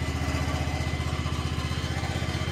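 A John Deere 777 zero-turn mower engine runs steadily after an oil change, a close, even, pulsing idle with a fast regular beat and no voices.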